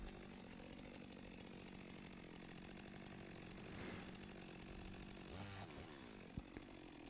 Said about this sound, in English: I'm doing a bore cut or plunge cut into the center of it